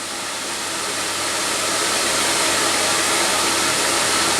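CamVac dust extraction system running at full power, a loud, steady broadband roar of rushing air that swells slightly over the first seconds and then holds constant with no voices.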